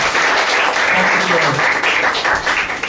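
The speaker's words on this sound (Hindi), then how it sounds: "प्रभु की ताली बजाने को धन्यवाद" A church congregation at a Sunday worship service claps together, a dense wash of applause filling the room with a voice audible beneath it.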